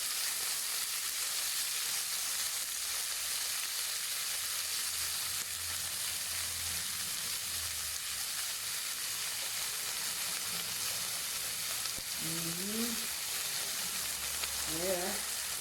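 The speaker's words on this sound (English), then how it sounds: "when very hot, you'll put the beef" Beef sizzles steadily in a very hot pan for stir-fried noodles, a loud continuous frying hiss with occasional stirring, and a voice speaks faintly beneath it near the end.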